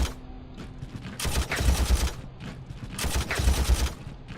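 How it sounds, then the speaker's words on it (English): Bolter gunfire in a Warhammer strategy game sounds as two loud bursts of rapid massed shots, each lasting about a second, with quieter gaps between them and no talking. "destroy these guys with as much bolter fire as we can muster"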